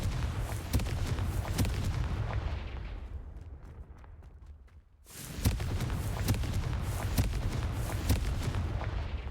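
A rumbling spell blast from the video game Hogwarts Legacy fills the scene with dense, crackling noise that fades, goes briefly quiet, then returns with a sudden boom and continues loudly.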